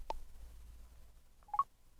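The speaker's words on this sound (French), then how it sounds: "il va y avoir ce petit son-là, comme quoi il y a des actions disponibles" A screen reader gives a short tonal cue signalling available actions: a brief blip, then a quick two-note chime a moment later, clear over near silence.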